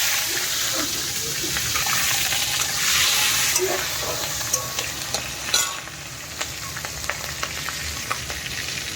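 Green chillies drop into a pan of hot oil already seasoned with panch phoron and black cumin, setting off a burst of loud, close sizzling that settles into crackling and stirring.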